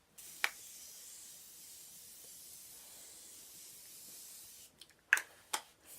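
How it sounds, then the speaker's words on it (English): Morphe Continuous Setting Mist is sprayed onto a face as a soft, continuous hiss that runs for several seconds, ending with a few short, sharp spritzes close by. "for setting mist, as always, using the Morphe Continuous Setting Mist"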